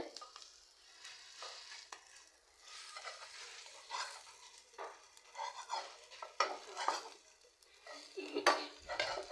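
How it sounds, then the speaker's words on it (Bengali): An egg fries in a pan with a soft, steady sizzle beneath repeated scraping, stirring and metallic clinks of a utensil against cookware, close and moderately loud throughout. "এদিক দিয়ে ডিম ভাজছি"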